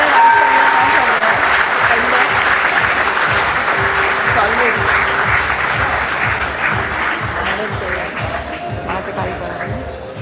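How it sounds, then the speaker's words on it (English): Sustained audience applause at an LIC listing ceremony, a dense steady wash of many hands clapping that fades slightly toward the end, with faint voices and rhythmic low thumps underneath. "Can we hear a resounding of claps, please?"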